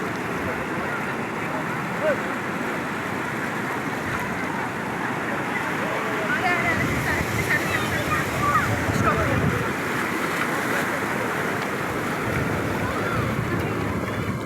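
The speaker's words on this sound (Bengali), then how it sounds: "ওই দেখো ওইদিকে দেখো ঢেউটা" Rough surf at Digha Mohana beach pounds steadily and loudly close by, a continuous roar of breaking waves with wind buffeting the microphone, swelling stronger about halfway through.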